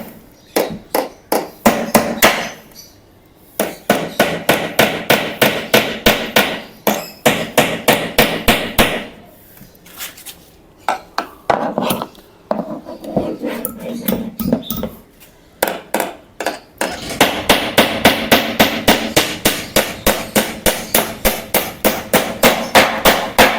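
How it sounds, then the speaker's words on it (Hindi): Hammer driving nails into a wooden table: bursts of rapid, sharp, close blows separated by short pauses, loud and alone. "ये देखें चौथी कील लगा रहा हूँ।"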